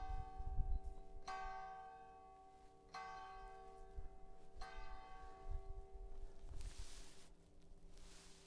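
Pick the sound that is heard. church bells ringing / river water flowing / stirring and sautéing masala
church bells ringing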